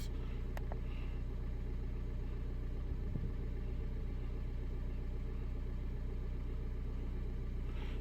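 A Ford Mondeo engine idles steadily with a low, constant rumble, close by and quiet, with a faint click near the start and no speech.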